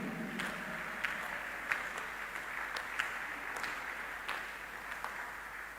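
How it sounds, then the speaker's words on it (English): Church congregation clapping steadily throughout, a continuous even patter of many hands at moderate distance with a few sharper claps standing out, no voices over it. "Clap before I continue."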